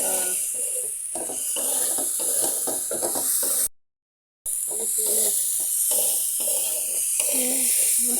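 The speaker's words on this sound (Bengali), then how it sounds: "কষাতে কষাতে যখন তেলটা ভেসে উঠবে তখন পানি দিবা" Water poured into spice paste sizzling in oil while cooking fish, a hissing, bubbling wash with spattering pops, broken by a short silent gap midway.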